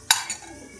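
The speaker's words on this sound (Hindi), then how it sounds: "यहाँ पे सबसे पहले मैंने ले लिया है पैन, और इसके अंदर डालेंगे हम देसी घी" A pan handled on a kitchen stove while desi ghee is added, giving a brief metallic clink followed by a softer second tap, close and short.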